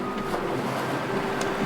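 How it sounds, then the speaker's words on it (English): Steady broadband wind roar of 25 to 30 knots buffets the microphone on a sailboat, with a constant rushing wash and faint water noise underneath, no voices. "it's been pretty windy"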